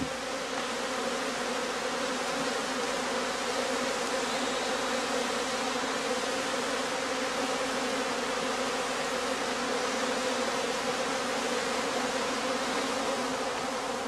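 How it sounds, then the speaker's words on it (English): Honeybees swarm at the entrance of a traditional straw skep hive on the heathlands of northern Germany, a dense, even buzz that holds steady and close throughout with no voices. "returning foragers are already waiting to carry their supplies through the entrance"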